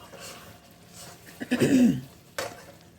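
Thick mixed pickle chutney is stirred in a wok over low flame, giving a short burst of scraping and clinking mid-clip and another brief knock near the end, close and fairly quiet.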